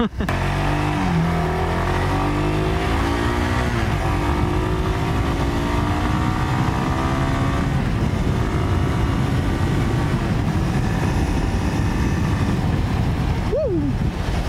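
A Daelim Daystar 250 motorcycle accelerates with a loud, continuous engine drone that climbs through the gears, heavy wind rush mixed in, and one brief shift in pitch near the end.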